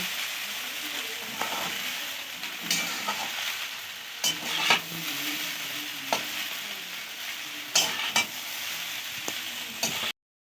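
A noodle mixture is stirred and fried in a pan, producing a soft continuous sizzle broken by repeated scraping and clinking strokes of a spatula, fairly close, then ending abruptly in silence.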